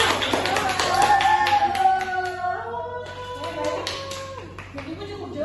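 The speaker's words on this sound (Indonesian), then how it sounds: "Tepuk tangan dulu" Applause in a classroom during a micro-teaching lesson, a burst of light clapping from a small group that trails off into scattered claps, overlapping with children's voices and a teacher speaking.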